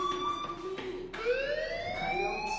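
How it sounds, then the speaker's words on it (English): A fire alarm rings inside the Life is Strange video game, a loud steady electronic tone that wavers and sweeps in pitch with layered harmonics, continuous and alone. "do you hear that fire alarm?"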